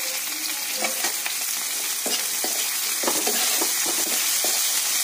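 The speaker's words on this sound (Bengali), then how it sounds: "পেঁয়াজটা একটু ভাজা ভাজা হবে।" Continuous loud sizzle of salted onions frying in a pan, with irregular scrapes and taps of a utensil stirring throughout.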